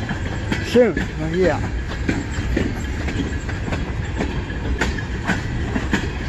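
Westbound freight train at Emmett, Michigan rumbling and clacking past nearby, with wheel squeal and rhythmic rail clatter under a man's brief speech.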